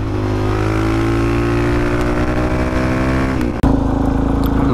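A motard motorcycle engine idles loud and close, a steady rough hum that swells slightly, then drops out briefly with a sharp click before running on at a steady pitch.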